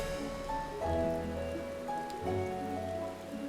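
Rain falls steadily in the Final Fantasy XIV: Endwalker video game, a soft continuous patter under quiet background music.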